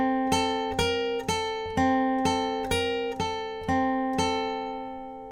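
Acoustic guitar with a capo picking a four-note riff, repeated three times in a steady even rhythm of about eleven crisp plucks, close and clear with no voices.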